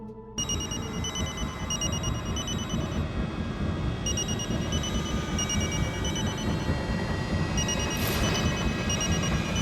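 A telephone rings on and on with a steady repeating electronic trill, moderately loud and close, against a faint room background with no voices.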